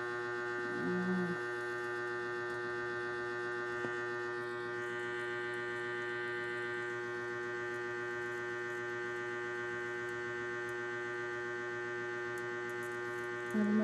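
Ceiling fan running steadily to dry wet hair indoors, a constant electric hum with fixed tonal lines and faint whirring that holds unchanged throughout, with only brief soft murmurs near the start and end.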